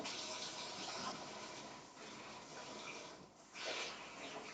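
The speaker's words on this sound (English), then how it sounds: "Hot water and then switch to cold" Water runs steadily from a kitchen tap for hand washing, a continuous close gush with a brief dip partway through and no talk.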